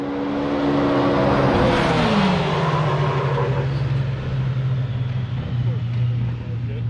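A Can-Am Maverick R side-by-side drag racing a Polaris RZR from a standing start, engines loud and close, a strong roar with pitch sweeping as they accelerate away.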